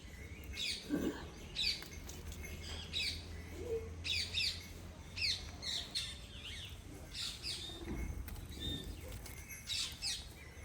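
Birds chirp and squawk in short repeated calls, some near and some farther off, over a steady low background hum.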